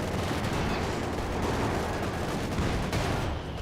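Dense battlefield gunfire and cannon shots from a Company of Heroes 2 match, a continuous loud roar of overlapping shots and blasts with no clear gaps.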